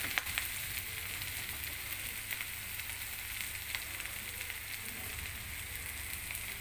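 Steady, dense sizzling of fish frying in hot oil in a wok, a continuous crackle with occasional sharper pops, close and fairly quiet, no voices.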